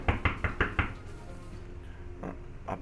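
Wooden door knocking in the Minecraft video game: a quick run of five close, sharp knocks, a short pause, then two more spaced knocks, with no talk over them.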